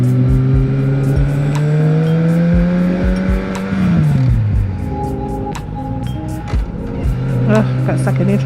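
A motorcycle engine drones loudly up close while riding, its pitch rising then dropping sharply at a gear shift before climbing again, with wind rush throughout and a rider talking over it.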